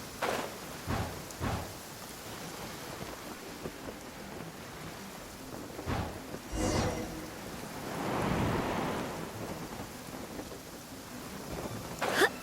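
Rain pours steadily in the video game Genshin Impact while several rolls and cracks of thunder break through, one long rumble swelling midway, with no voices.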